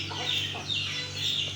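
Chickens, Aseel fowl kept on a farm, cluck repeatedly at close range over a low steady hum.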